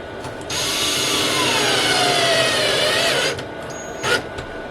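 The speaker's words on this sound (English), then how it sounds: "you screw them in until they are flush in the backer board" Power drill driving screws into shower backer board over wooden studs inside a van conversion, a steady whirring run of about three seconds followed by a brief second burst, close and fairly loud with no talk.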